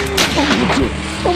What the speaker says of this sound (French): Oh mon Dieu, il tire.